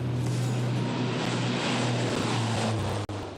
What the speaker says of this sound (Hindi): अर्जुन फॉर्मेशन में एक C-295 और 2 C-130 विमान अपने प्रदर्शन से आपको रोमांचित कर देंगे।